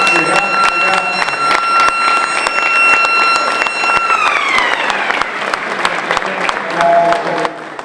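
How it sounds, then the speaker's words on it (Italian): An audience breaks into loud, continuous applause, dense clapping close and sustained throughout, with a tonal music sting fading out partway and a voice speaking over it. "Un applauso."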